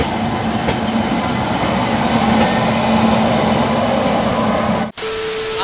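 The Sampark Kranti Express, train 22450, at New Delhi railway station: a loud, steady rumble of rolling rail noise with a faint hum, cut abruptly near the end by a brief shift in tone.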